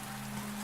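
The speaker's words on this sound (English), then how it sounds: "Rain patters everywhere." Rain patters steadily and evenly everywhere in a humid, damp setting, a soft, dense hiss with no breaks and no voices over the brief moment.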